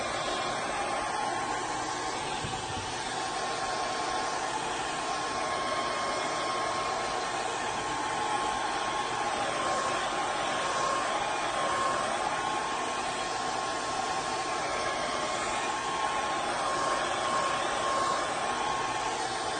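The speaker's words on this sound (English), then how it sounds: "Let's get some of my hair dryer." Hair dryer blowing steadily at close range over acrylic paint being poured on a vinyl record, a continuous broadband whoosh with a faint steady whine, alone and unbroken for nearly twenty seconds.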